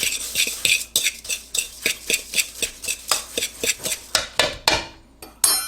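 Sugar being stirred into pie filling in a bowl, a steady run of quick rhythmic scraping clacks of a utensil against the bowl, about three strokes per second, close and fairly loud with no talking.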